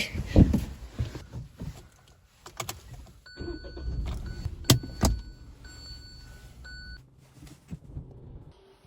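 A car being entered and started to drive off, with a door or key clatter, electronic beeps and an engine turning over and running low throughout, moderately close with no talking.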